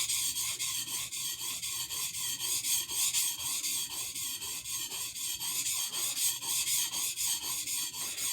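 A knife blade is drawn back and forth across a cheap water stone, producing a steady series of rhythmic, gritty rasping strokes, close up and even in pace.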